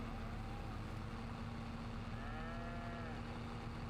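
In-game cows mooing on a dairy farm in Farming Simulator 25, a few drawn-out low moos rising over a steady rumbling farm and machinery hum, fairly faint and without talk.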